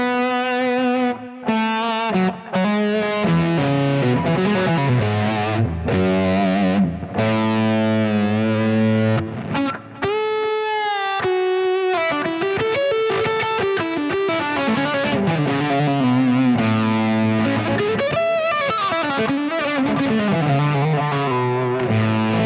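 An electric guitar plays through an adjusted Vemuram overdrive pedal, giving a warm, distorted tone with chorus-like shimmer. Sustained chords and melodic phrases ring out loud and continuous, with no talking.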